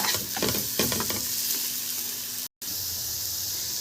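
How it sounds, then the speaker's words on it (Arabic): Onions and a spoonful of garlic fry in a pan while a spoon turns them. The first second is busy with stirring scrapes over the sizzle, which then settles into a steady frying hiss with a brief dropout. "هنزل بمعلقه من الثوم كده واقلبهم كلهم في قلب بعض لحد البصله ما تاخد اللون الحلو الجميل"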